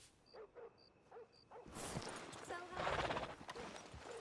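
Horse hooves clip-clop in Red Dead Redemption 2, a few soft clops under a voice before louder movement and bustle take over, with a bright chime repeating early on.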